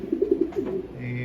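Racing pigeons coo from a breeding loft in a quick run of soft, low, throaty calls, close by, with a faint bird note trailing at the end.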